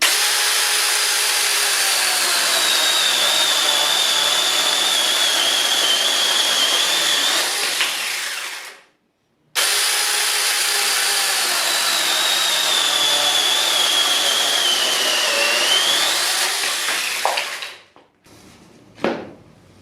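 A battery-powered handheld mini electric chainsaw cuts through a large log in two long passes, a loud steady whirring whine broken by a short pause, winding down at the end with a few knocks, heard alone.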